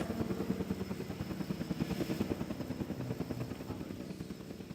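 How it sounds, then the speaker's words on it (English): A helicopter flies in the park-building game Jurassic World Evolution 2, its chunky rotor thumping in a fast, even rhythm that stays loud and close throughout, with no talking. "I just love the noise these choppers make."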